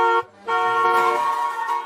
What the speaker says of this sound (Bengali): গাড়ির হর্ন বাজছে মনে হয়